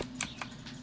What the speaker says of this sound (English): I'm going to hit 1 on my keyboard to have my tree grow up